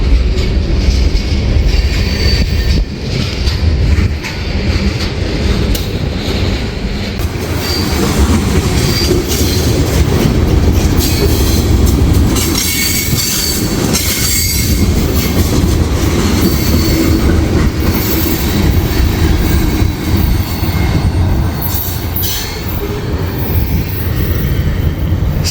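An eastbound mixed manifest freight train on the Union Pacific Geneva subdivision at Rochelle, Illinois rolls past close by, a loud continuous rumble of cars with clickety-clack and wheel squeal throughout and no talk.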